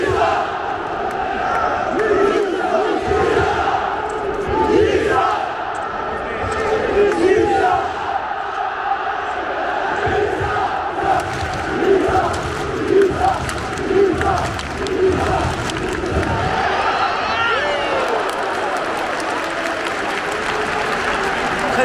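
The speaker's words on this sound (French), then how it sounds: "Et les Nantais qui applaudissent le chant des Nantais pour Emiliano Sala." Nantes football supporters in a stadium at a French cup final sing a rhythmic chant for Emiliano Sala, with loud crowd voices and clapping swelling and fading, and a commentator speaking over them.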